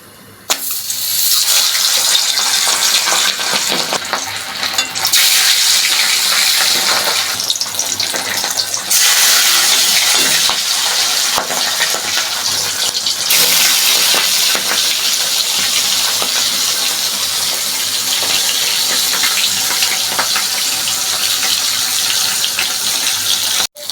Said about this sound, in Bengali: আমি এখন মাছগুলো দিয়ে দেব আর মাছ তো একটু ফোটে তেলের মধ্যে দিলে তেলটা ছেটে